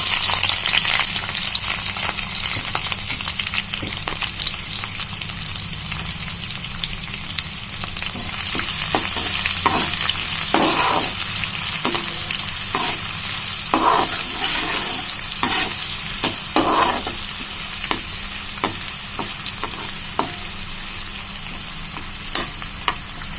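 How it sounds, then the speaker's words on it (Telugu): Chopped onion and green chillies fry in hot oil with a loud, constant sizzle, while a spatula scrapes and taps the pan in irregular bursts, close up. "ఉల్లిపాయ ముక్కలు వేగినాయండి"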